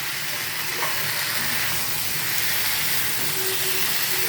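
Young jackfruit pieces fry in a pan for a vegetarian Bengali echor dalna, giving a steady, loud sizzle and hiss throughout, with no voices.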